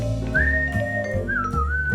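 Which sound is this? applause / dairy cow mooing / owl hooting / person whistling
person whistling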